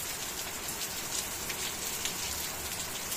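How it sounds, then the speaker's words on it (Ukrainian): Heavy, steady rain patters and hisses on surfaces, a dense continuous wash of droplets with no voices. "Пішов у нас дощик, ребятки."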